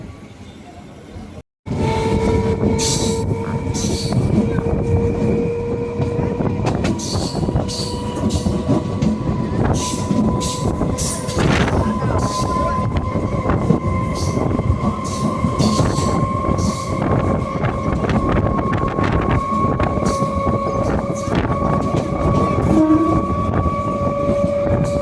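A crowded Mayiladuthurai–Salem MEMU express train runs steadily with a loud, continuous rumble, clattering wheels and faint squealing tones, after a brief quieter moment at the start.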